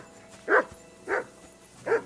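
A dog in the medieval game Kingdom Come: Deliverance II barks three times at a steady interval, moderately loud over a faint background hum, with no talking.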